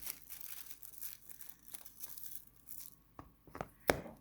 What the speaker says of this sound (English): I'm going to take my paper scissors